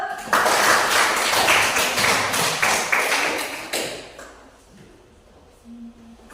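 A classroom applauds student group 3 with a burst of many hands clapping, loud and dense for about four seconds, then fading out into quiet room tone.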